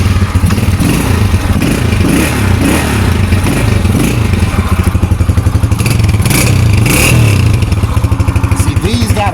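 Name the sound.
150cc motorcycle engine started and revving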